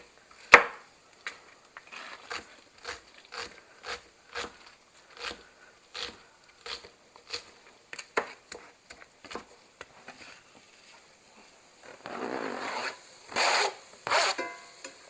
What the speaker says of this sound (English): So I'm going to go ahead and cut the other half of the onion.